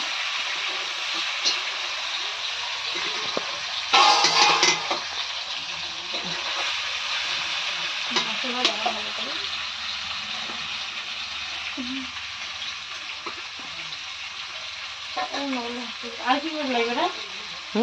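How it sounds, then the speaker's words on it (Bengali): Goat meat sizzles and is stirred in a pan over a steady hiss, with scraping strokes and occasional clanks, while women chat nearby. "মেজো মাংস রান্না করছে"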